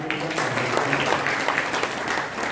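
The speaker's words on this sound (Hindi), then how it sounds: "उनके लिए भी एक बार मैं चाहता हूँ जोरदार तालियों" An audience breaks into steady applause at a Hindi spiritual gathering, a dense, even wash of many hands clapping at moderate volume throughout.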